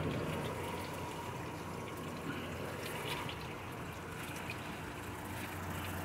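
A garden watering system sprays fine mist onto plants, a steady, close hiss of water droplets with faint trickling, continuous and even throughout without speech.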